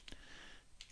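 Keys on a computer keyboard click in two short clusters, quiet and close, separated by a brief pause.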